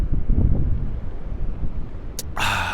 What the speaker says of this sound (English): stay careful out in all this wind